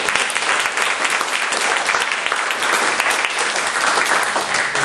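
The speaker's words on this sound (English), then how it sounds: "how about a round of applause for our 2 debaters?" Audience at a community debate forum on VTA and BART applauds the two debaters, a dense, loud, steady wash of many hands clapping for the full stretch without any voices.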